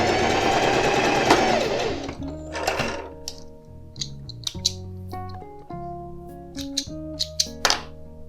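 A sewing machine stitches percale fabric with backstitching in a loud, fast whirring burst lasting about two seconds, followed by a melodic musical passage.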